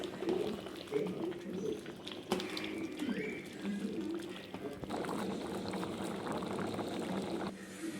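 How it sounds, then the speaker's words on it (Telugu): Rice bubbles at a rolling boil in a pot of coconut milk pulao, a steady gurgling simmer with occasional pops, with a voice talking over it. "ఇప్పుడైతే మంచిగా పొంగు వచ్చి ఉడుకుతుందండి."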